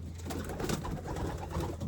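Young racing pigeons cooing softly and continuously in a loft, close and moderately quiet, with no voices.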